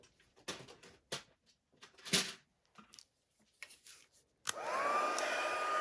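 A heat embossing tool switches on and blows a steady, loud stream of hot air after a few scattered handling clicks and taps on a craft table.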